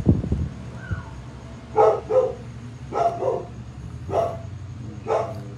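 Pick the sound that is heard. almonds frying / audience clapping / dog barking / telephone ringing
dog barking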